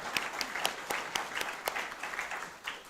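A small community gathering in a Venetian golf and river club setting offers a brief round of applause, with a handful of separate, fairly close claps ringing out over a thinner background patter.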